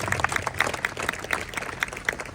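Audience applause for a senator and an assemblywoman at a groundbreaking press conference, a steady patter of many hands clapping at moderate loudness throughout.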